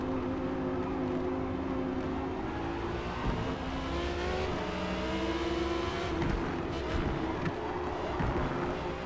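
An Audi R8 and a Porsche 911 race side by side at Spa in a Forza Motorsport night race, engines droning and shifting pitch steadily, moderately loud with no talk.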